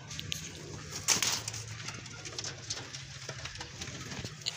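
Domestic pigeons coo in low, throaty repeated calls close by, with a brief flutter or clatter near the start and faint background noise, no talking.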